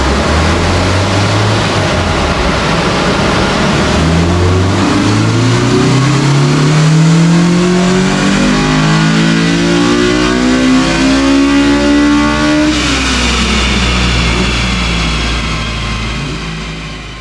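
An all-motor Honda B18C in an EG hatchback revs hard on a dyno, its loud, close engine note climbing steadily through the gears in rising harmonic sweeps, then dropping sharply and winding back down.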